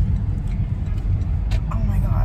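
From inside a moving car on a road comes a steady low road and engine rumble, with a voice talking over it.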